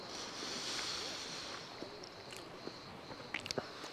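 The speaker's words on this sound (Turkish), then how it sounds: "Dalga sesleri, deniz sesleri, kuş sesleri, orman sesleri." Sea waves at Korsan Koyu, a cove on the Adrasan coast, make a soft, continuous wash with no talk, and a few faint splashes near the end.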